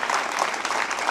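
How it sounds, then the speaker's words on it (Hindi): An audience claps at an education panel discussion to welcome a panelist, a short, steady burst of many hands clapping at moderate loudness with no speech over it. "तो इनका भी जोरदार तालियों से स्वागत करें"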